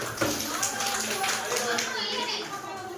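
A group at a school management committee meeting claps together in a dense, lively burst over the chatter of many voices, including children, for a few seconds.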